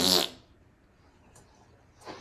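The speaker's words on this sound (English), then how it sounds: "Do the juiciest fart you can" A short, loud synthetic fart sound played by an Alexa smart speaker at the very start, followed by quiet and a faint breathy noise at the end.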